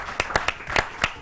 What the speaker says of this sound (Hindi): हमारे गेस्ट के लिए तालियां।